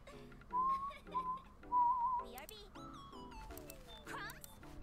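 Bright melodic whistling in a song, short sustained notes and a falling glide over soft backing music, moderately quiet and close.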